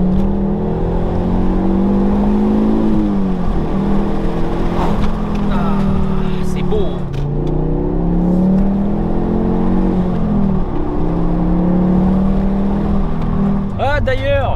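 A Ford Focus ST Mk2 engine revs hard and accelerates, its pitch climbing and dropping repeatedly through several gear changes, loud and close.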